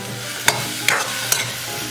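Chunks of sweet potato dropped into a hot pot and stirred, with a steady sizzle under three sharp scraping strokes of a utensil, close and fairly loud.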